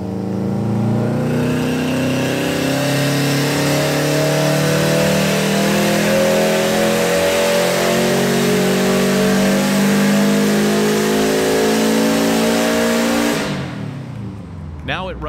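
A 2004 Subaru WRX engine idles and revs steadily, its loud, smooth mechanical drone rising gradually in pitch before cutting off sharply near the end, close and alone.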